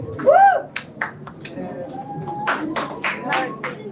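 A school audience at a children's literature festival claps and cheers in short scattered bursts, with a loud cry near the start and voices mixed through the applause.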